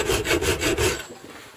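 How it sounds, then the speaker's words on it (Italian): Coarse file sharpening a crampon point, rasped back and forth in about four loud, even strokes, then a brief quieter pause before the filing resumes. "quando uso la lima grossa, posso passarla avanti e indietro"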